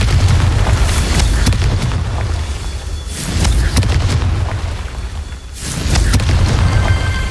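Confringo spell explosions in a Harry Potter video game: deep, rumbling booms recurring about every three seconds over a continuous roaring background, loud and full.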